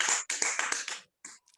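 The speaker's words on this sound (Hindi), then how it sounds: "मेरी पत्नी ताली बजा रही थी" A woman claps her hands indoors, a quick close run of about five sharp claps, a short pause, then two softer ones.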